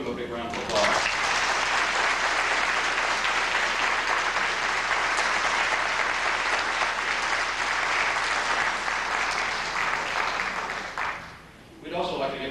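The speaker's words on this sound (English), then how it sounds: "Give them a big round of applause" Sustained applause from a reunion audience at a McLain High School class of 1990 twentieth-year reunion, a dense steady wash of many hands lasting around ten seconds before fading, with voices mixed in.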